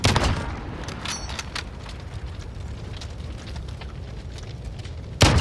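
Sniper rifle shots in a multiplayer shooter video game during a bomb-defusal round, with a loud crack at the start and another near the end over steady game ambience.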